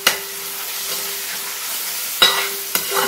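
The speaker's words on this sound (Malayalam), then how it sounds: "അത് നന്നായിട്ടൊന്ന് ഇളക്കി കൊടുക്കാം." Crushed green chillies and curry leaves fry with a steady hiss in a pan, broken by a couple of sharp stirring scrapes near the end, close and clear.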